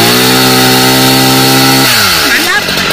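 A chainsaw engine drones loudly at a steady pitch, then bogs down and sputters as it bites into the wood of a large rain tree being felled.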